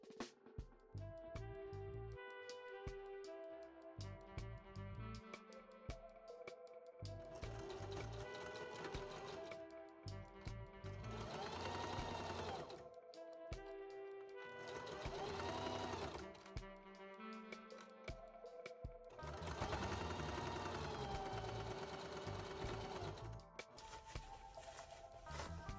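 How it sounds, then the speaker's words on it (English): Sewing machine stitching fabric bags with cotton batting, running in several bursts of steady rapid whirring, stopping and starting between passes, close and alone. "I finally got more batting and I'm able to sew them up"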